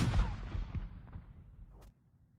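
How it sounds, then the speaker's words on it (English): A single cannon salute blast booms loudly up close at the start, its heavy low rumble rolling away and decaying over about two seconds before cutting to near silence. "a cannon blast"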